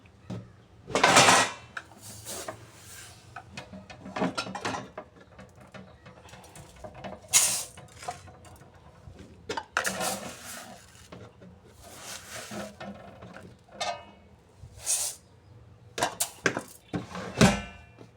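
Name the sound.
mixing rice for khichuri in a pot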